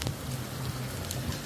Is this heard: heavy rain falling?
yes